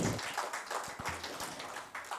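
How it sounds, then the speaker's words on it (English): A live audience applauds a speaker named Nikita with a short burst of scattered hand claps that stays moderately loud for about two seconds. "Let's give Nikita a big round of applause"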